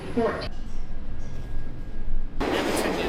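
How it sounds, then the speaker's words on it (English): A train passes near a city station, its rumble and rushing roar filling the short span and swelling again toward the end, with a voice partly over it. "Never turn your back to the train."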